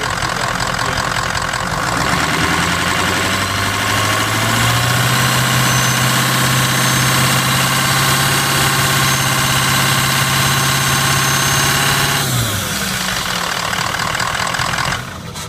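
A 2003–2004 Ford 6.0 Powerstroke diesel with a rough-running condition idles up close, a loud steady knocking clatter that holds for about twelve seconds, then dips as it shuts off near the end.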